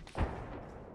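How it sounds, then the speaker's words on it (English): A single gunshot cracks out in the Hell Let Loose video game, a sharp burst with a short decaying tail, set among distant battlefield ambience. "I'm getting shot from where the outpost is"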